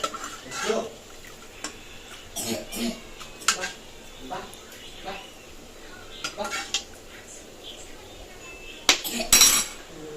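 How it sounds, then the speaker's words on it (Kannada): Steel plates and cutlery clink and clatter in a home kitchen while mutton sambar and palya are served, with scattered sharp chinks and scrapes of varying loudness under a quiet background and occasional talk. "ಸೊ ನಾನು ತಟ್ಟೆ ಹಾಕ್ತಾ ಇದ್ದೀನಿ ಹಸ್ಬೆಂಡ್ಗೆ."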